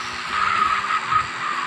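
Car tires squeal and skid through a car chase in the GTA San Andreas multiplayer game, a steady sustained screech over engine roar lasting under two seconds, loud and continuous with no talk.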